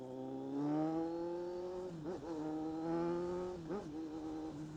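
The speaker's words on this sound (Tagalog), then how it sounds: "Sarap ng tunog ng inline 4." Kawasaki Z900 inline-four motorcycle engine revving, a smooth rising and falling drone with a couple of quick throttle blips dipping and surging again, heard from close by with no talk.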